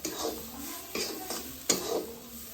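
A roasted coconut paste fries in oil in a pan over a wood-fired stove as a spoon scrapes and stirs it in three distinct strokes over a soft, constant sizzle.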